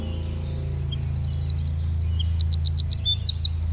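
A bird calls overhead in wild Brazil, repeating quick high chirping trills in short bursts over a low steady rumble.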